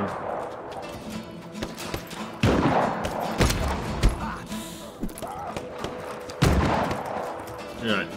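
Rapid bursts of pistol gunfire in Just Cause crackle in irregular volleys, with heavier thuds and explosions mixed into a busy, loud soundscape.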